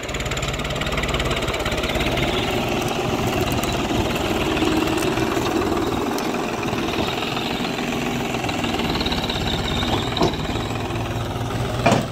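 A New Holland 7510 tractor engine runs steadily at idle, a continuous low diesel rumble with knocking vibration, close by and loud, with no talking.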